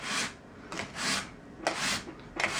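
Sandpaper strokes filing the felt of Steinway L piano hammers, a series of soft, close rasping rubs repeating in uneven bursts of about a second each, with no talking.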